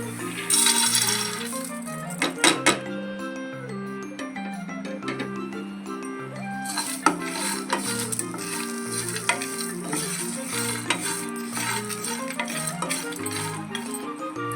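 Thin slices of dry coconut and other ingredients tumble into a dry pan with no oil, rattling and clinking as they land, followed by steady stirring and a faint dry crackle, with music playing throughout.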